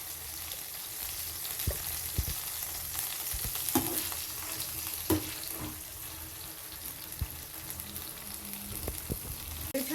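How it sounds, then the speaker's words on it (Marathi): Finely chopped tomato sautés in hot oil for pohe, a steady close sizzle broken by occasional scrapes and clicks of stirring. "त्याला तेलात छान परतून घेऊया."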